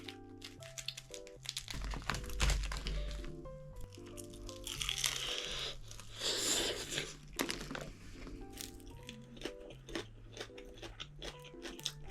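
Loud crisp crunching bites and chewing of crispy fried chicken, close up, repeating in irregular bursts with crackly tearing between them.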